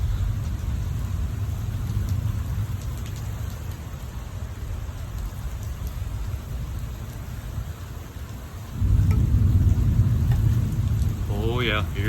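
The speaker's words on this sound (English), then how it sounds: "You can hear that thunder rumbling in the background too." Spring thunderstorm in Oklahoma: steady rain pours throughout while low thunder rumbles in the distance, swelling louder near the end.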